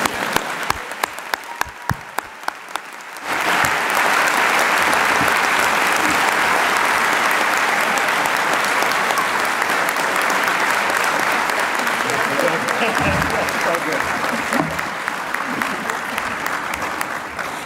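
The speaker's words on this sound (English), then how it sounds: "And let's get one more clap." Commencement audience applause at a university graduation ceremony: a few scattered sharp claps first, then a large crowd bursts into loud, sustained clapping that stays dense and steady to the end.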